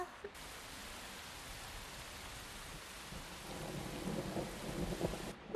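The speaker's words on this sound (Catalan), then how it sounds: "Que pari de ploure." Steady rain and rumbling thunder in a Catalan-dubbed anime series, a dense continuous wash of rainfall that swells louder toward the end with low thunder rolling beneath.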